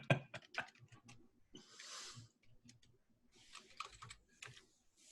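Typing on a computer keyboard: quick irregular bursts of soft key clicks with short pauses and a few louder thocks, close and quiet, no talk over it.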